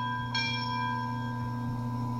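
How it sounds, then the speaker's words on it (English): Digital sound-decoder bell from a Bachmann HO streamlined K4 steam locomotive model with TCS WowSound, ringing steadily and close with a sustained metallic tone and no talking. "Bell."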